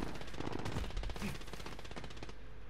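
Rapid automatic gunfire rattles in a Call of Duty Warzone match, a dense, continuous burst of shots filling the whole moment with no voices over it.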